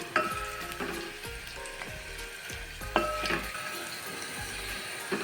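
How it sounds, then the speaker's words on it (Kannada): Curry leaves sizzle steadily in hot oil in a pan while a yogurt curry (mosaru saaru) is being made, with recurring clinks and scrapes of stirring over the crackling fry; no one speaks. "ಚೆನ್ನಾಗಿ ಹುರಿಬೇಕು."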